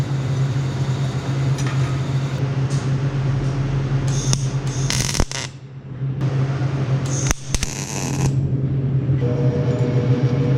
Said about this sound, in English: So I'm gonna go ahead and weld this to this pipe